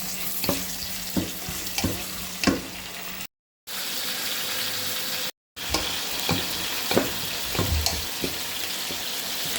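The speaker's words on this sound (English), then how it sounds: "Onion fry. Add some garlic." Chopped onion and garlic fry in a pan with a constant bright sizzle, broken by regular spatula taps and scrapes and two short silent gaps.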